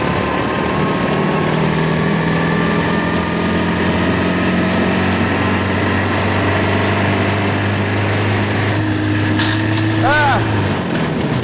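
A 1929 Austin 7 Chummy's small engine drones steadily while driving, a loud continuous low hum with a steady pitch throughout, and a voice briefly speaks near the end.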